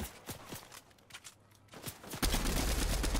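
Rapid bursts of gunfire in Fortnite crackle in quick volleys, faint at first, then a dense, louder stretch of shooting fills the second half.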